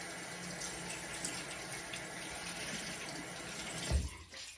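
Water running from a bathroom tap onto a sponge, a steady soft rushing hiss that continues evenly, with a brief thump near the end.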